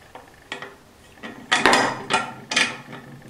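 Metal tool clicks and ratcheting scrapes as a 6 mm Allen key turns the screw on a scooter exhaust bracket, a few short sharp bursts of close, quiet mechanical clatter.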